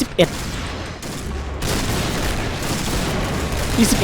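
Gunfire in a shooting video game with a sniper and dyed weapons, a sharp shot near the start and another burst near the end over a steady background of game noise, with a voice talking.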